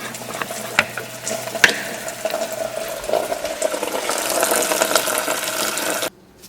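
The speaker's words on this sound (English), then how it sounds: "we're going to drain our coolant by getting our catchment underneath here and then undoing this drain valve with our flathead screwdriver" Coolant draining from the radiator drain valve of a Mercedes-Benz W203 into a catch pan, a steady trickling and splashing stream with a few clinks, running continuously before cutting off abruptly at the end.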